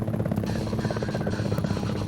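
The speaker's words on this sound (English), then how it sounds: "chopper." Helicopter from the PlayStation game Gunship drones steadily with a throbbing rotor buzz and hum, continuous and fairly loud, with no voices over it.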